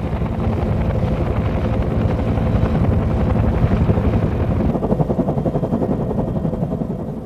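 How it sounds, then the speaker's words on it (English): A Huey military helicopter's rotor makes a loud, continuous throbbing chop, close and steady throughout with no voices. "Because of the rotor noise, pilots tried to avoid alerting the enemy until the last possible moment."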